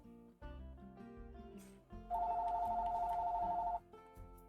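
A telephone rings with a steady electronic warble lasting just under two seconds, clear and fairly loud over quiet background music in a Planet Zoo gaming session.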